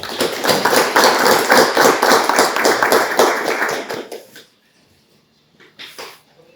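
Loud burst of audience applause welcoming a speaker at a FIHNEC chapter evening meeting, dense clapping for about four seconds before cutting off abruptly, followed by quiet with a few faint scattered claps.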